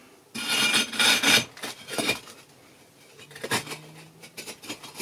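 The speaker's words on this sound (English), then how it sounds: "This brick is going to slide down from the top." A brick scrapes and slides into position during a DIY glass-fusing kiln build, with a gritty rasp early on, then a few lighter knocks and shuffles of brick being settled, close and moderately quiet without talk.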